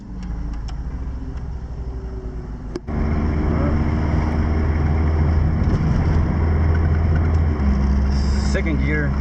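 A 1988 Honda Prelude with four-wheel steering drives along, its engine droning loudly and steadily under wind noise. Partway through there is a brief dip in the sound as the car shifts gears, and the engine then carries on at a steady pitch.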